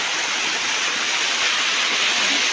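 A forest waterfall rushing steadily, a dense, even roar of falling water at fairly close range, continuous and unbroken for the whole short stretch with no voices.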